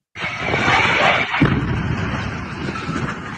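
A plane crash in Philadelphia sets off an explosion heard from a distance, a sudden loud boom followed by a sustained roaring rumble that slowly eases off.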